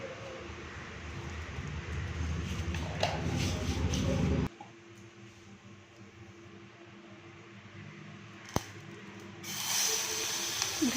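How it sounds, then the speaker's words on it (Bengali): Cumin and fenugreek seeds sizzling in a little hot oil, a close hissing crackle that cuts off abruptly partway through, leaving quieter background, then returns near the end. "অল্প একটু তেল দিলাম, ফোড়নে দেবো একটু জিরে আর অল্প একটু মেথি দেবো।"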